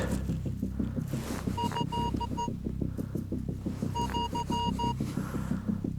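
A metal detector sounds two bursts of clear, repeated electronic beeps while searching outdoors, each burst lasting about a second, over a steady low rumbling throb.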